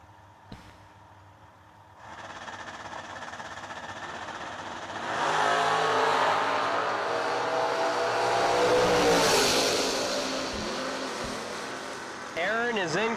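A Copo Camaro and a 1978 Malibu drag race down the strip, engines swelling from a distant rumble into a loud roaring pass that gradually fades, with a track announcer talking over the noise.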